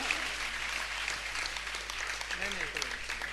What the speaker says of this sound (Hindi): आपको अच्छा लगा तो तालियां बजाएं